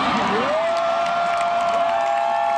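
A large crowd cheers and whoops with scattered clapping, a steady roar of voices from a distance while one sustained shout rises and holds above it.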